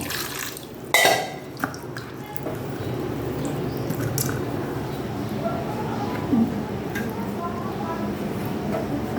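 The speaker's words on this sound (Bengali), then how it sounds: "প্রথমে আমি মাছগুলোকে ভালো করে জলে দিয়ে ধুয়ে নেব।" Katla fish are washed in water in a home kitchen, with steady splashing, sloshing and dripping under the work and a few brief clatters of a pot or dish early on.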